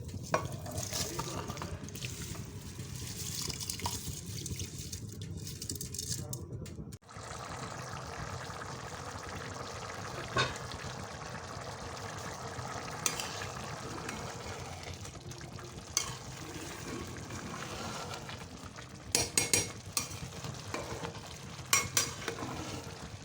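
Rice goes into boiling chicken yakhni for pulao and is stirred, a steady bubbling, sizzling simmer with occasional scrapes and knocks of a spoon against the pot, close and continuous.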